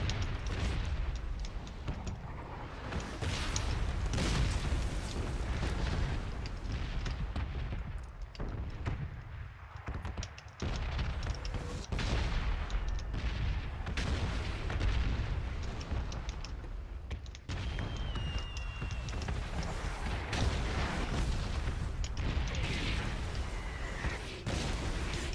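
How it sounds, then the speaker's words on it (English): Bombs going off in the red zone during a PUBG match: a dense, continuous barrage of booming explosions that rumbles without a break, with no talking over it. "Bomb's coming."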